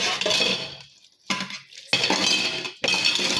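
Dishes being washed in a kitchen sink after cooking: loud bursts of running water and clattering pots, plates and cutlery, broken by a brief near-silent pause, close up with no talking.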